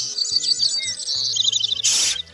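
Small bird chirping and tweeting indoors close by, a rapid run of high twittering notes over a low background hum, ending with a sharp burst of noise.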